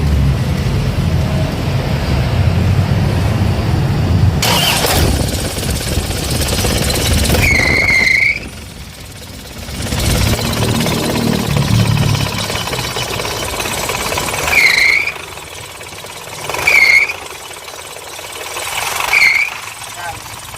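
An Isuzu Hilander 4JA1 diesel engine cranks and runs, with a loose alternator belt squealing sharply and chirping repeatedly over the idle while a person talks nearby.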